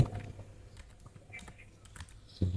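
Soft, sparse keystrokes on a computer keyboard as a search term is typed into a web browser, faint and close against a low steady background hum.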